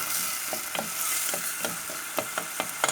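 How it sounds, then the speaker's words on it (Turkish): Onions sauté in a pan for a diet soup, giving a steady close sizzle with regular soft taps of a utensil stirring them every fraction of a second. "Şimdi biraz kavurduktan sonra soğanımı şöyle bir 3-4 dakika kavuruyorum."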